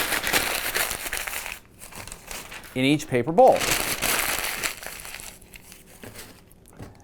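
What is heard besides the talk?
crumpling newspaper into a ball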